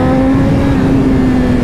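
A BMW S1000RR superbike engine running in rain mode: loud, close, steady engine hum at a held pitch, a continuous drone without breaks.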